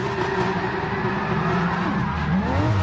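A race car in Gran Turismo Sport spins through donuts, its engine droning steadily while tires squeal and skid continuously, with rising and falling pitch sweeps throughout.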